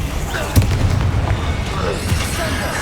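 Confringo blasting spell in the Hogwarts Legacy video game, a sharp explosive boom early on followed by rumbling bursts and combat noise, with a voice calling out over the action.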